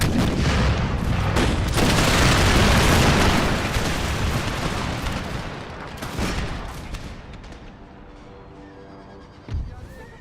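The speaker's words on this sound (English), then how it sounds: "Blast those troops to the front. One good artillery hit was enough." Artillery fire in the battle game Empire: Total War, Ottoman Empire campaign: a loud, heavy barrage of booms and crackling volleys that builds and then fades into distant rumbling, ending in one last sharp report.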